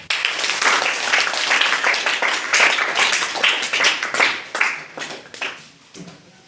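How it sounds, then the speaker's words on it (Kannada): An audience at a school claps to welcome an arriving guest: dense, lively applause that holds strong for several seconds, then thins out and fades near the end. "ಅವರಿಗೆ ಜೋರಾಗಿ ಚಪ್ಪಾಳೆ"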